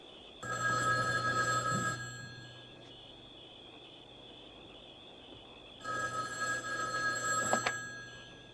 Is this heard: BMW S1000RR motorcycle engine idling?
no